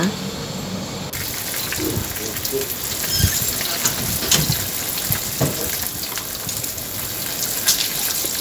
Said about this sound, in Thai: จากนั้นเตรียมกระทะ แล้วก็เอาลงทอดได้เลยนะคะ